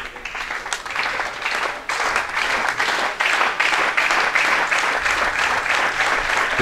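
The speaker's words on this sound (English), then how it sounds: "The crowd now starting to get behind the athletes, clapping along with their encouragement" Spectators at the men's 10m air rifle final of a 2018 ISSF World Cup in Fort Benning clap along in a steady rhythm, a dense continuous patter of many hands from a sizeable crowd, with no talk over it.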